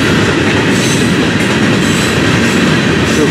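A freight train of gondola cars rolls past close by, a loud continuous rumble of wheels with steady clacking over the rails.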